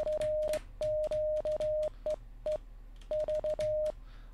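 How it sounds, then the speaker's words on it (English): Morse code straight key sending tones with audible key clicks, a steady beep pitch broken into short and long bursts in irregular rhythm, close and clear without talking. "But now I hear the key clicks."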